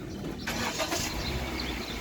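Honda BR-V car engine starting, a brief crank at about the half-second mark that settles into a steady idle nearby.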